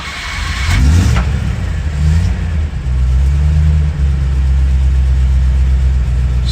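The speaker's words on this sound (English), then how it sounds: "Starts nicely, settles down to a nice idle." A 1980 Land Rover Series III 109 with a Stage 1 V8 cranks and fires, revs briefly, then settles into a steady, loud, deep idle heard up close.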